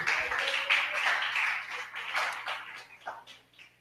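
Church congregation clapping together in a steady, dense burst of applause that tapers off toward the end, heard fairly faint and without voices over it.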